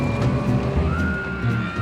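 Race car engines run on a track, a steady dense mechanical drone with shifting pitch and a rising whine near the middle, close and continuous with no talk.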